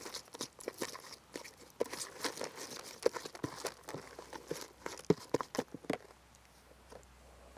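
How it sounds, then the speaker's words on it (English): Tench-fishing groundbait is worked and squeezed by hand in a bowl or bucket, giving close, irregular crunching and crinkling bursts that fade near the end, with no talk. "Give it a good mix up."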